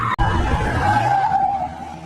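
A getaway car races off through busy Madrid streets, tires skidding and squealing over a loud engine roar that holds steady before easing slightly at the end.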